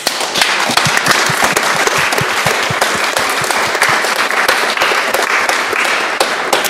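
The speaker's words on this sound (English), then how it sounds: "each one of them should get a round of applause" At a Perform Europe event, the audience gives the jury a round of applause, a loud, sustained roar of many hands clapping together with some sharper individual claps standing out, carrying on without pause.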